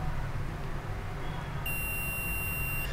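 A multimeter set to continuity beeps as its probes bridge a fuse resistor on a mobile phone circuit board, one steady high tone starting partway through and holding for over a second above a low background hum.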